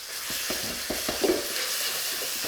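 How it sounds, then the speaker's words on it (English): A spicy black bean and chili paste is stirred in oil in a wok, giving a soft, steady sizzle broken by scraping strokes of a utensil against the pan. "You do have to keep stirring this so it doesn't stick to the bottom of the wok"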